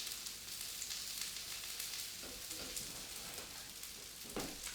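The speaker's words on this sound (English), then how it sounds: "So I'm just flipping my fritters now" Homemade fritters sizzle steadily in a hot frying pan just after being flipped, a continuous close crackle with a few soft scrapes, no talking.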